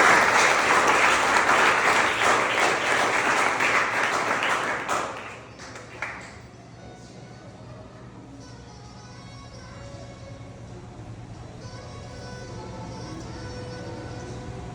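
A church congregation bursts into loud, dense applause during a sermon, which fades out after about five seconds into a quiet room with a low steady hum.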